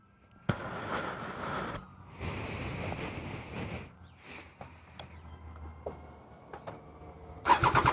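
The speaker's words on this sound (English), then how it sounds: "let's go ahead and give her a cold start" A Triumph Daytona 660 motorcycle with an Akrapovic full titanium exhaust starts from cold. A sharp catch and start are followed by a steady, loud idle with revs rising and falling in surges, then a burst of clatter at the end.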